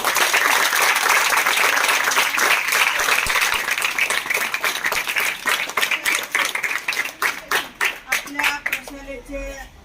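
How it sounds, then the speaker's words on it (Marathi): Loud, sustained applause from an audience at a school sports felicitation event, dense clapping filling the room and then thinning into scattered, uneven claps toward the end. "सर्वांनी जोरदार टाळ्या वाजवून"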